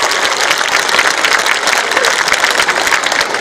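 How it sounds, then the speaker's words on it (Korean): Crowd applause at the opening ceremony of the 27th Icheon Ceramics Festival in 2023, a dense, sustained wash of many hands clapping outdoors, loud and continuous throughout. "서로 환영의 뜻으로 큰 박수를 보내주시면 감사하겠습니다"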